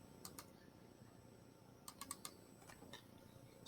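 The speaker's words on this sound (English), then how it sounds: "So we're going to go ahead and type in 3." A handful of faint, separate key clicks from a computer keyboard as a number is typed into a math ratio activity, sparse taps spread across a quiet background with no talk.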